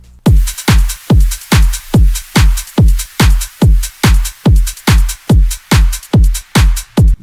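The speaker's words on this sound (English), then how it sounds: "those are the drums, they sound like this" A simple programmed drum beat from Star Mega Kit samples pounds out a steady pattern of punchy kick and snare hits, evenly spaced roughly twice per second, loud and dry with no voices.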